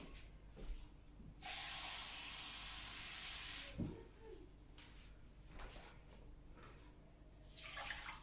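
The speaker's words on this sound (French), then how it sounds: "Et je mets 3 tasses d'eau." Three cups of water poured into a pot of shrimp rice with vegetables sitting on the stove, giving a loud hissing rush for a couple of seconds, then softer splashes and clinks.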